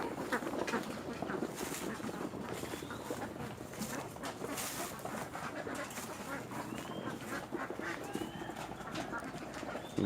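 A flock of egg-laying ducks quacks continuously nearby in a busy, chattering jumble at a backyard duck pen beside a banana garden, with some background movement and scattered other animal sounds.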